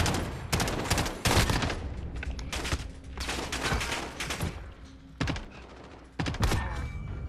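Three-round bursts from the Striker rifle in Call of Duty: Modern Warfare, loud close repeated volleys separated by short gaps, with no talking over them.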